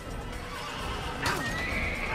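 A horse whinnies once, a brief rising neigh in the Assassin's Creed video game, heard alone over a low soft background, moderately close.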